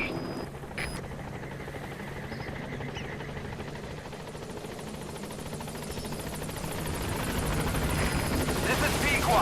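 The Pequod helicopter in a video game arriving at a landing zone, a steady rotor drone that grows slightly louder toward the end, with a radio voice speaking over it.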